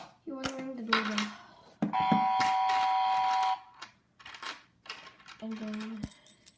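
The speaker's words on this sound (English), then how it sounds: "So, you want to ring the doorbell." Melissa & Doug wooden toy doorbell house being rung, bright electronic chime tones sounding several times, with one sustained ring in the middle and small clicks and knocks between.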